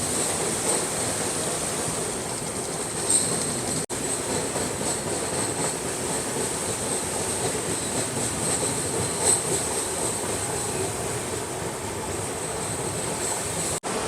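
Howrah-NJP Shatabdi Express crossing the Farakka Barrage over the Ganga, heard from inside a Vistadome coach: a steady, loud rolling rumble and rail hiss continues throughout, with faint clatter and no talk.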